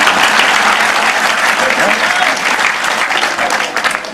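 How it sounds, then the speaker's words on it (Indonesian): Dense applause from a large audience at an Islamic sermon gathering, loud and continuous throughout, a wash of many hands clapping together without pause. "Tepuk tangan sik."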